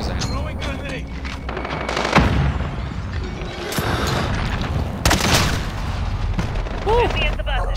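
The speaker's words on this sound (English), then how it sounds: "That's because I'm throwing grenade." Explosions and gunfire from a grenade thrown in the Modern Warfare video game, several heavy booms and crackling shots over continuous battle noise, with someone talking throughout.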